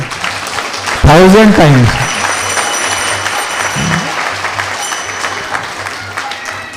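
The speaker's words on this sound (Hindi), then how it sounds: "अच्छे से बजाइए ताली।" Audience applause at a Hindi spiritual talk on Purushottama Maas, rising loudly after a brief spoken phrase and sustaining as steady clapping through the rest of the stretch.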